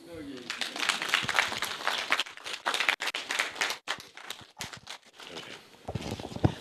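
Audience applause after a talk at a broadcasting media industry forum, a sustained burst of many hands clapping in a hall, fading out toward the end, with a voice speaking over it.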